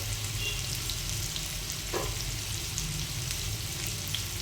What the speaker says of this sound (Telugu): సిమ్లో పెట్టేసి అప్పుడప్పుడు కలుపుకుంటూ ఉండాలి. చికెన్ పీసెస్ ఫ్రై అయ్యే వరకు